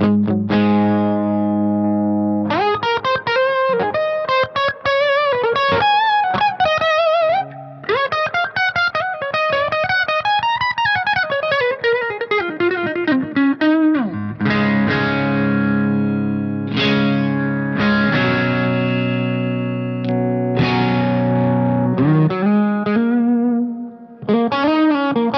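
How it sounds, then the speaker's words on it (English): Electric guitar played through a subtle phasing effect on a Peavey Predator, giving a hollow, out-of-phase, cocked-wah coloring; continuous strummed chords and picked notes with sustained distortion, no talking. "It almost gives it a out of phase sound, almost like a cocked wah type of sound."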